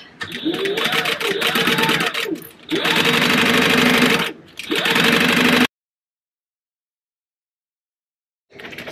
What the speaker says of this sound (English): all you're going to do is just sew it just like you did the last one